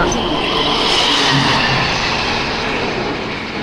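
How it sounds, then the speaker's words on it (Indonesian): An intercity train passes with a loud, continuous rushing roar, close by and steady throughout, fading slightly at the end. "Kereta antar kota teman-teman lewat."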